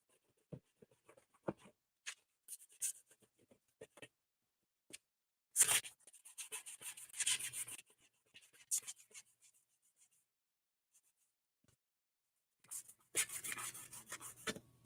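Paper towel rubbing and wiping across a gel printing plate to clear off lift ink, in scattered scrubbing bursts with pauses between, close and fairly quiet.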